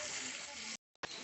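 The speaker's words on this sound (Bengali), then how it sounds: "হলুদ দিয়ে আর লবণ দিয়ে আলুটাকে ভেজে নিচ্ছি।" Potatoes frying in hot oil with turmeric and salt, a dense steady sizzle that cuts out for a moment with a faint tap, then resumes loudly.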